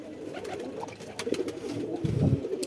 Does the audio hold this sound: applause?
no